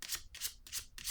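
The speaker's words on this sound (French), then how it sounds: "Je vais déposer une autre carte pour ici." Tarot cards laid down and slid across a table during a Scorpio reading, four quick soft papery swishes in an even rhythm, close and quiet, with no voice.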